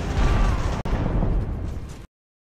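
Artillery fire in the naval-and-land war game Ultimate Admiral: a loud, rumbling barrage of booms that rolls for about two seconds, with one sharp crack partway through, then cuts off to silence.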